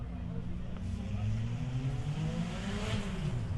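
A Toyota Starlet rally car at the finish of a forest rally sprint, a steady engine drone with a rising tone as it drives past, heard under an announcer's voice.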